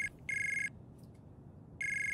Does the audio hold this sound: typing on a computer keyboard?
no